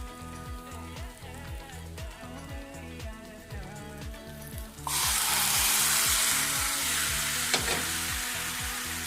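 Onion frying in a pan until it burns, first a softer crackle with rhythmic stirring, then a sudden louder hiss of sizzling as more goes in, close and continuous.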